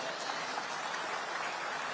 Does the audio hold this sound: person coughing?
no